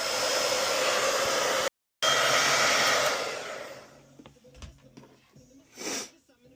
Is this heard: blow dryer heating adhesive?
yes